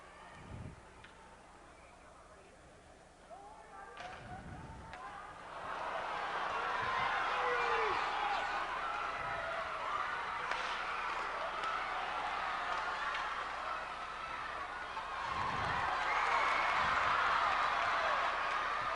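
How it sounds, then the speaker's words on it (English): Crowd at a 1996 Pennsylvania high school hockey championship in the Cambria County War Memorial arena, a broad cheering roar with applause swelling and staying loud, with a few thumps and nearby voices. "Look at this crowd."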